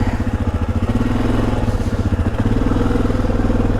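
Yamaha Grizzly ATV engine running close by, a loud, rapid, steady thumping exhaust with a slight dip in revs partway through, with no talk.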